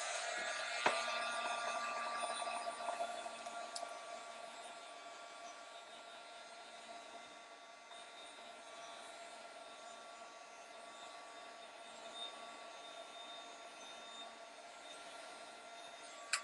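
An electric heat tool blows hot air to dry mixed media cards, a steady close whirring hiss that runs without a break and eases slightly after the first couple of seconds.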